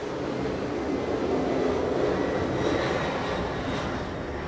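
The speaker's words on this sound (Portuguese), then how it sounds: "só um avião passando aqui" Airplane passing overhead near an airport in Brazil, a steady broad roar that holds loud and constant throughout, with a faint high whine swelling slightly near the end.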